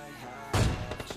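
A single heavy gunshot, apparently from an AWM sniper rifle, rings out in PUBG Mobile Lite gameplay, a sharp booming blast about midway followed by a short decaying tail with a few fainter thumps.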